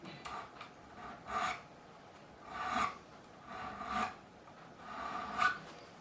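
A file rasping over the fret bevel on a Fender Telecaster: soft, quiet rhythmic strokes, about five back-and-forth passes at a steady pace, close up with no talk.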